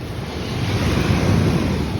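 Steady rain falling outdoors during a wet nature camping trip, a dense, even wash of noise with a wind-like rush, close and continuous, with no speech.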